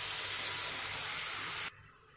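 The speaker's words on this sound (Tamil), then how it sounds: "கொஞ்சம் தண்ணி சேர்த்துக்கிறேன்." Water poured from a jar into a pan of tomato curry with native vegetables and ground paste, a steady hissing splash that stops abruptly near the end, leaving quiet.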